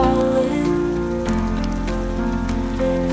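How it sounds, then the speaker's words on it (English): Rain falling on a surface as a steady, dense hiss of drops, loud and continuous, layered with sustained musical tones from a love song, with no voices. "This rain, it never stops falling"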